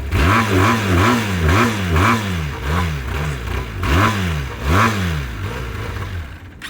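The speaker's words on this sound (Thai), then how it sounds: "อันนี้เสียงสองสูบแบบเบนเดอรี่นะ" A two-cylinder Benelli motorcycle engine revving up and down in repeated bursts, loud and close, with a throaty rising and falling pitch over a rough idle.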